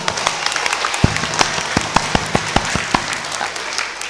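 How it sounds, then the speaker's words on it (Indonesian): Audience clapping at a santri imtihan, an Islamic boarding school student exam event, heard as a light, uneven run of distinct claps that builds over about four seconds with no talking over it. "Ayo kasih tepuk tangan dulu"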